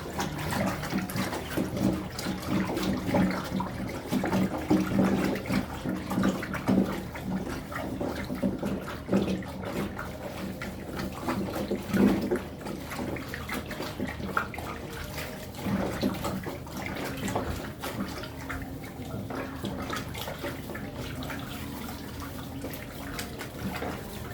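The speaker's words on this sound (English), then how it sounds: "As you're pouring it in, you're stirring it" Chemicals being poured and stirred in a container while making multipurpose liquid soap, a continuous close liquid swish and sloshing with irregular scraping of the stirring, no voices.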